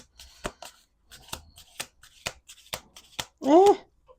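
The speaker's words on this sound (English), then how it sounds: "Let's do 2 more shuffles." Playing cards are shuffled in a series of sharp, quick riffles and taps, close and crisp, with brief pauses between bursts.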